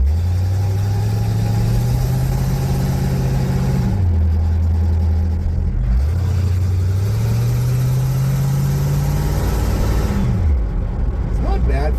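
Rebuilt 1936 Chevy truck engine running while driving, with an unfinished exhaust; a steady mid-pitched drone rises and falls through gear changes, loud and continuous, with people talking over it.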